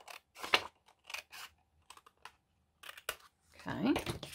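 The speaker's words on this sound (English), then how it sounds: "you're going to cut the excess" Scissors snip through the excess paper of a folded book page during bookmark crafting, giving a few short, close crisp cuts separated by pauses, followed by rustling paper handling.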